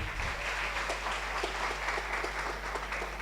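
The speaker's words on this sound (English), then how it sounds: "Give her a round of applause, please." A university faculty orientation audience applauds a new faculty member, a full, even spread of clapping from many hands that holds steady over a low background hum.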